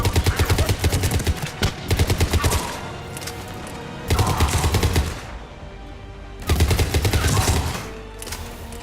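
Bursts of automatic weapon fire erupt in the Mass Effect 3 video game, three rapid-fire volleys each lasting about a second or two, separated by lulls of lower rumbling combat ambience. The shots are loud and close.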